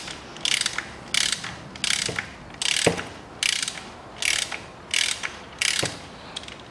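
Ratchet wrench clicking in repeated bursts, about eight strokes, while bolts and 15 mm heads come off the valve cover of a Land Rover Discovery 4 3.0; sharp metallic pawl chatter, close and alone, with faint knocks between strokes.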